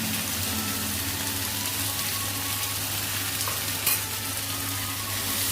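Turmeric, coriander and chili powders being stirred into vegetables in a pan for a green gram curry, a steady close sizzle with soft scraping movement and one brief clink, no talk.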